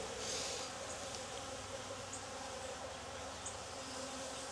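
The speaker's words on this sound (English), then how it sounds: "Lots of bees." A dense, steady buzzing of many bees close by at an opened beehive, continuous throughout with no voices.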